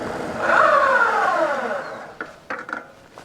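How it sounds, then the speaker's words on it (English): An e-bike's rear tire skids as the back wheel locks up under braking, with a rising and falling squeal, then fades into a few short knocks and clatters as the bike comes to a stop. "you heard the back end lock up"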